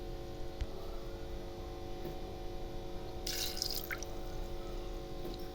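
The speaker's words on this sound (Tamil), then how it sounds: "இன்னும் கொஞ்சம் தண்ணி அலசி நம்ம ஊற்றிக்கலாம்." Water is poured into a coriander-leaf buttermilk juice seasoned with salt, a steady trickling and splashing with a brief stronger gush partway through, close by and with no talking.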